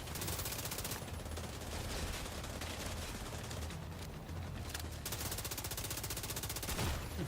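Sustained, dense gunfire from snipers and other weapons during a firefight in The Division 2 video game, loud and continuous across the whole stretch with rapid overlapping shots and no talking.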